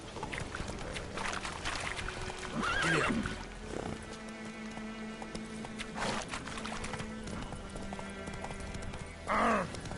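Roach the horse trotting in The Witcher video game, hooves clip-clopping steadily with a couple of loud whinnies and snorts breaking through.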